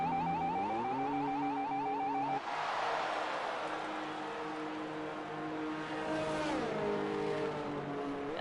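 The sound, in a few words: F1 car driving slowly down pit lane, from a video game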